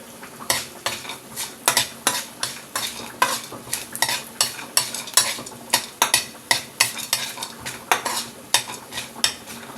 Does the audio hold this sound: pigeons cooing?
no